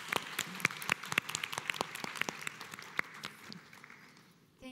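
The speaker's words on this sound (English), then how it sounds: "I would like a round of applause to the finalists" Scattered applause at an academic conference session on AI and gender, individual sharp claps from a small audience rising briefly then thinning out and fading to near silence.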